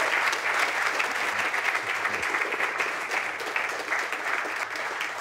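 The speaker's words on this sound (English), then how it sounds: "Please give Stephen Mansfield a huge round of applause." Audience applause welcoming a guest speaker at a talk, a dense, sustained roar of clapping from a large crowd, steady and loud from start to finish.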